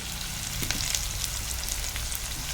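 Onions sizzle and crackle in hot oil for a country chicken pepper fry, a steady frying hiss with small pops, close and fairly quiet, no voices.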